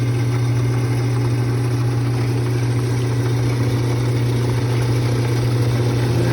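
A restored 1940s metal lathe runs after being switched on, giving a steady, continuous motor hum with a strong low drone and a faint mechanical whir throughout. No voices are heard.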